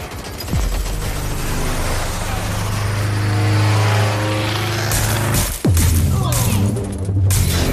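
Enemy security drone flying in Watch Dogs Legion, a loud droning, whirring engine hum that shifts pitch as it moves, with sharp impacts and bursts of noise over it and speech present.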